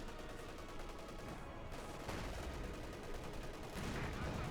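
A StuG assault gun in Company of Heroes 2 blasts away amid dense game battle noise, with repeated gunfire and explosions layered over a constant rumble at moderate, distant-sounding level.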